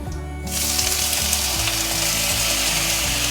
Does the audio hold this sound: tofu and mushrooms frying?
yes